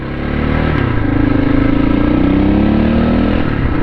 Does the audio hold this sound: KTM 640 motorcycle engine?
yes